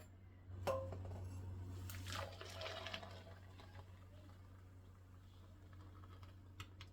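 Fresh vegetable juice made with watercress is poured into a quart mason jar, giving a short liquid pour with light clinks over a steady low hum, with no talking.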